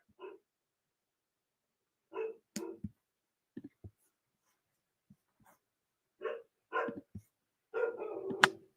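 A dog barks in short bursts of two or three, fairly close, with gaps of silence between the barks and a longer, louder run of barking at the end.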